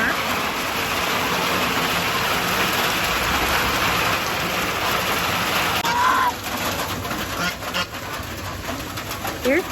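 A heavy rain downpour beats steadily in a chicken coop, a dense, constant hiss that fills the whole scene. Pigeons or doves coo nearby, and the rain eases slightly near the end.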